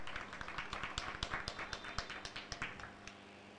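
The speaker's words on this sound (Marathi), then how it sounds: "टाळ्या वाजून त्यांचा गडगडाट करूया" An audience at a Navratri festival sermon gathering at a village goddess temple claps in a quick, even rhythm, faint and somewhat distant, then the clapping fades out.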